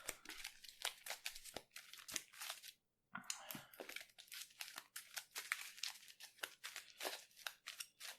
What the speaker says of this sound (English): I'm gonna shuffle the encounter deck first.